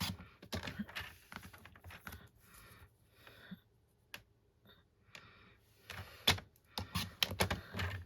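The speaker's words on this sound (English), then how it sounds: "I'm going to cut it diagonally from that mark to the other one" Scissors cut diagonally through paper for a paper-craft pumpkin treat holder, heard as quiet, close, irregular snips and crisp paper rustles in bursts, with no talking.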